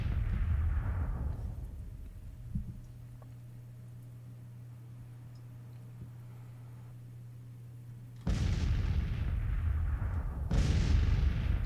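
Cannon fire in a Civil War strategy battle: a few loud, sharp artillery booms with decaying tails, separated by a quieter stretch of low hum and distant ambience, the later shots arriving close together.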